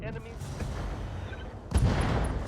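Mech weapons fire in the Roguetech mod of the BattleTech video game, a dense rumbling barrage of booms that swells into a louder, heavier burst near the end.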